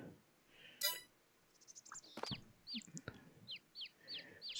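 Chickens on a poultry farm in Farming Simulator 22 cluck and squawk in short repeated calls, with a few sharp clicks, fairly quiet and close.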